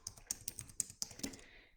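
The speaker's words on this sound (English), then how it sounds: "I'm going to type it in here too." Typing on a computer keyboard with long nails: a quiet, close series of irregular crisp clicks and taps, about eight keystrokes in under two seconds, with no talk.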